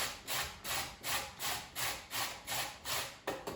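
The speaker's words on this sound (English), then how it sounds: "So if you're going to grate, it's very simple. Just grate nice and carefully" A carrot is grated by hand in even, rhythmic strokes, about seven scraping passes with short pauses between them, close and fairly quiet, with no voices.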